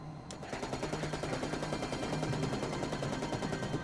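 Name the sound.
burst of 30 mm cannon gunfire, sound effect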